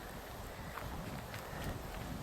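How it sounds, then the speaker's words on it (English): Strong wind buffets the microphone at a Crownland campsite, a steady low roar of gusts with no voices. "But again, it's super windy."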